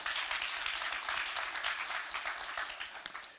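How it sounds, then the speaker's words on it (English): An audience applauds at a tech conference talk, a dense, steady wash of many hands clapping that holds strong throughout and eases slightly toward the end. "So can we get a round of applause for Heimstaden?"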